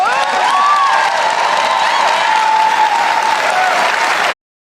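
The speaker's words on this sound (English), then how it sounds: "it's a cue for the audience to start clapping" Studio audience applauding and cheering during a televised interview, loud sustained clapping with whoops and raised voices, cutting off abruptly just before the end.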